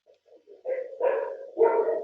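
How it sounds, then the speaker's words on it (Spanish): A dog barks three times in rising, close bursts, each louder than the last, heard during an online class call with no talk over it. "Por favor, le bajan volumen al perro"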